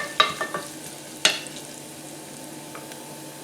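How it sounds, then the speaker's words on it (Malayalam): Coconut pieces sauté in coconut oil, a low continuous sizzle broken by several sharp ladle scrapes and taps against the pan, loudest near the start. "ഇനി ഇതിലേക്ക് കുറച്ച് തേങ്ങാക്കൊത്ത് ഇട്ട് കൊടുക്കാം."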